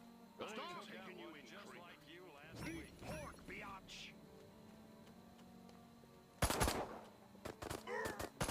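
Gunfire from the video game Destroy All Humans: a loud, dense burst of shots about two-thirds of the way through, followed by a few scattered shots, with someone talking over the first part.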